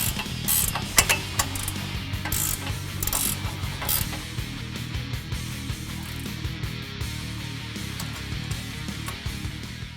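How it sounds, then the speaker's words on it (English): An 8mm socket on a ratchet works the sway bar end link of an F-150, giving steady rapid clicking pawl ticks at close range with light metallic clatter and no talk. "use an 18mm wrench and an 8mm socket to reinstall it."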